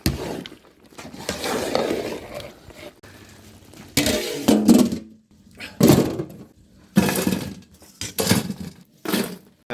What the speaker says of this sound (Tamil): மூடி போட்டுடலாம்.